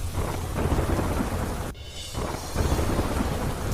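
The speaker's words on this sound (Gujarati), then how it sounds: "અમદાવાદ શહેરમાં ફરી જામ્યો વરસાદ" Steady heavy rain hisses throughout over Ahmedabad streets, with a deep low rumble of thunder rolling underneath and a brief lull partway through.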